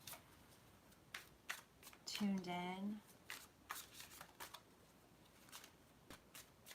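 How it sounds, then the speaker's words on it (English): Tarot cards shuffled in a series of crisp, irregular riffles close by, with a short spoken phrase breaking in partway through. "I'm just going to shuffle here for a moment"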